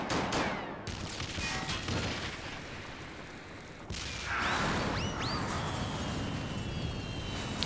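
Bursts of gunfire and booming blasts in Final Fantasy XIV fill a loud, steady battle din, with a brief lull before the shooting swells again alongside whistling streaks.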